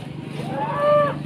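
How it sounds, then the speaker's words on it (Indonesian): A single loud, drawn-out moo from a cow at a cattle market in Boyolali, rising and falling over about a second. "Ada juga ada sapi Eva dan sapi-sapi bakalan lainnya teman-teman"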